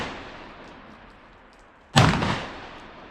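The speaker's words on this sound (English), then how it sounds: "I'm going to go ahead and hip shoot for those metal plates and see where we hit" A single loud blast from a Charles Daly Honcho tactical semi-auto shotgun, fired from the hip at metal plates outdoors. The sharp report decays over about a second after a quiet lead-in.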